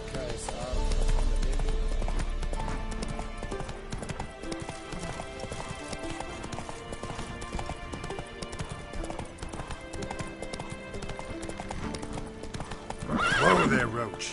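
Roach, a horse in The Witcher 3 video game, clip-clops at a steady gallop throughout, with a loud neigh near the end and a voice talking over the hoofbeats.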